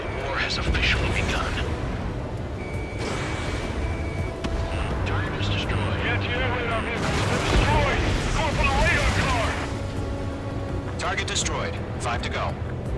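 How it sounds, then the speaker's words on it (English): Anti-air gunfire in the Ace Combat 7 combat game rumbles steadily with dense bursts and booms throughout, layered under engine roar and busy battle noise, with no pause in the din. "They've got their anti-air guns aimed right at us."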